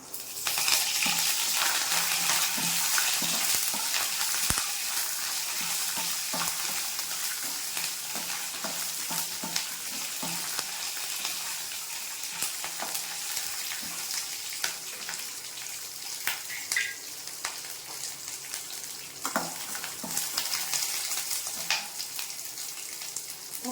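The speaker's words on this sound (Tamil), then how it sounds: "எல்லாம் நல்லா வறுபடட்டும் இப்போ கருவேப்பிலை சேர்த்துக்கலாம்" Peanuts, spices and curry leaves fry steadily in hot oil in a pan, a dense continuous sizzle with scattered crackles and pops throughout, close and fairly loud with no talking.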